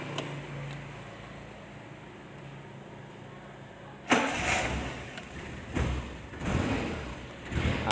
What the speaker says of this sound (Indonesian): Sekarang kita coba untuk menyalakan mobilnya.